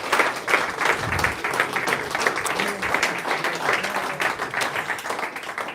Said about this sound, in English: Give them all a collective round of applause.